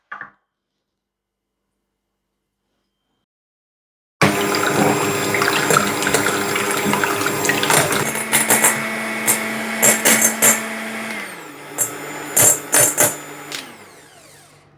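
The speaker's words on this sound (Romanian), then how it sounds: "Și acum batem albușurile foarte bine cu zahărul și puțină sare." An electric mixer whips egg whites with sugar and a pinch of salt in a bowl, giving a steady, close whirring hum after a brief silence. Beater clatter and knocks against the bowl come through near the end.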